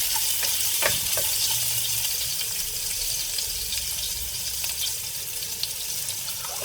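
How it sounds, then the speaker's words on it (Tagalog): Tomatoes with garlic and onion sizzling and frying in a pan, stirred with scraping sounds, close and steady throughout. "Ayan, i-mix na natin yung kamatis."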